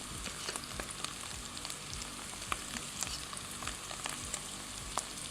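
Desert truffles and meat frying in a pot, with a steady close sizzle, scattered crackles and pops, and soft stirring throughout; no voices.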